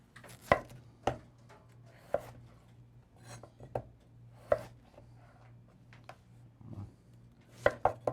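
A knife cutting large potatoes into wedges on a cutting board, with sharp separate thunks landing about once a second amid soft rubbing and handling noise, close and clear with no talking.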